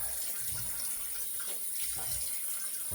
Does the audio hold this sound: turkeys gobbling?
no